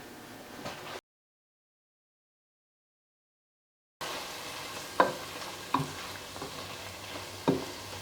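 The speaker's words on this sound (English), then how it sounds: "we'll let that saute for maybe about 5 minutes" Sausage and onions sauté in a pot for a white bean soup, a quiet steady sizzle with several sharp stirring clacks; the sound drops out entirely for a few seconds midway.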